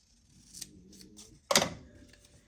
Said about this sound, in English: So what if I cut it off at like 5 inches?